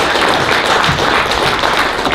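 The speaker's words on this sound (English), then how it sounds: "Give her a round of applause, everybody" An audience at an acting workshop bursts into dense, loud applause, a steady wash of many hands clapping close by with no talk over it.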